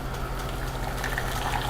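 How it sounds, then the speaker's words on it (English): Hot water pours steadily from a kettle or pot into a glass Pyrex measuring cup in a home kitchen, making a continuous close, even gushing and filling sound with no talk. "I can pour the hot water straight into the container without fear of it exploding"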